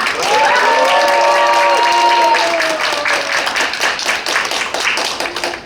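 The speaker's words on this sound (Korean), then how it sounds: "우리 승리할 거라 믿으시면 우리 함성과 박수 한번 하시겠습니다." An audience at a Korean political gathering bursts into loud applause and shouting cheers, with raised voices ringing over brisk, sustained clapping that gradually turns more scattered.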